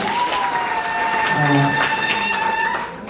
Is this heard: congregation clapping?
yes